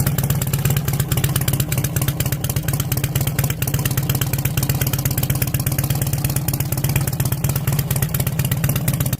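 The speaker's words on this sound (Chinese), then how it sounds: "先大家听一下鱼尾的排气声浪。" Harley-Davidson Mexican-style custom with a fishtail exhaust, low handlebars and a modified air filter, idling nearby: a loud, steady, rapid exhaust chug with a slight clatter continues for about nine seconds without any talk.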